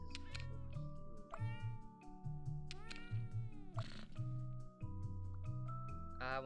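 A cat meows repeatedly in a video game, the clear, close, tonal meows arriving in quick succession over steady game music and sound effects.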